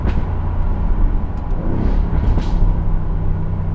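A loud sports car engine rumbles steadily, with brief rising and falling revs as it downshifts through gears, close by with no talking.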